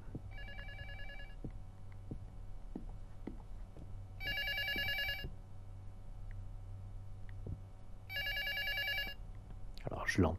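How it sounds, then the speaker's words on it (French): Two bursts of an electronic telephone ring sound in the horror video game LUTO, each trilling for about a second, set against a low droning ambience with scattered soft knocks and a sharp rustle at the end. "Je crois qu'il y a une téléphone qui sonne"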